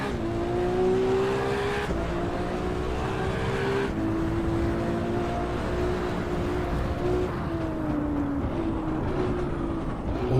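A race car engine in the Assetto Corsa EVO racing game roars continuously, its pitch climbing through gears and dropping sharply with several downshifts, loud and steady with no talking.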